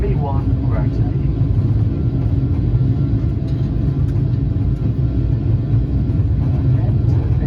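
An airliner on its takeoff roll and climb out of Recife airport, heard from inside as a loud, constant engine roar and cabin rumble that stays steady throughout.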